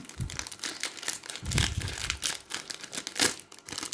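A Detective Conan trading card pack is torn open and its foil wrapper crinkled close up, a run of sharp, irregular crackling bursts with brief pauses between them.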